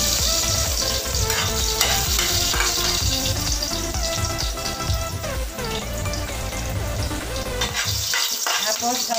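Garlic sautés in a pan for a seafood dish, giving a loud, continuous close-up sizzle with crackling and the scrape of stirring throughout.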